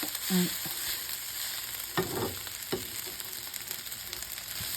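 Ham fried rice is stir-fried in a pan with a continuous sizzle, and spatula scrapes and clinks come every second or so. No one speaks.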